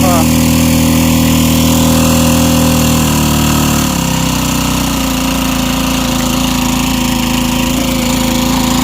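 Water pump boat engine given a slight rev: a loud, steady, close mechanical drone whose pitch shifts partway through, then settles into an even run.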